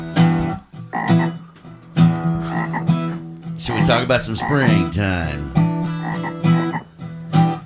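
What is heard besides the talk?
frogs croaking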